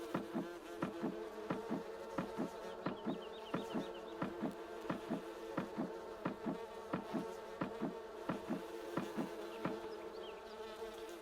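Honeybees at a beehive in the Farming Simulator 19 video game give a steady, moderately loud insect buzz with a rhythmic pulsing, repeating about twice per second throughout, with no talking.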